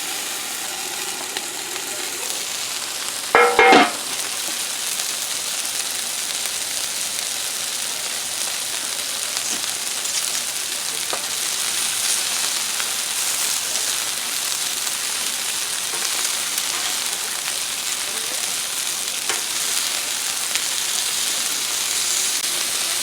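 Chicken wings frying on a Blackstone griddle set to medium heat make a steady, even sizzle that holds for the whole stretch, with one brief louder clatter early on and no talking.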